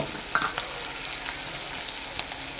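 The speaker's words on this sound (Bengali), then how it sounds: "পেঁয়াজটা ভাজা হয়ে গেছে" Onions fry in a pan, a steady close sizzle with occasional small crackles and stirring clinks, no voices.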